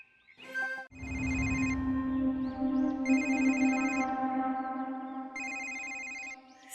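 A telephone rings in repeated electronic bursts of bright tones, loud and close, with a steady hum underneath and no talk.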